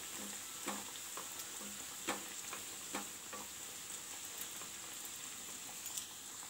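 Puri frying in hot oil for a home-style tiffin. A steady, close sizzle and bubble carries scattered soft pops and crackles, with no voices.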